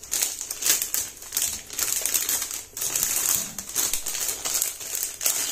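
A semi-automatic water level controller is unpacked from its cardboard box, continuous close crinkling and rustling of packaging with small taps, no voices.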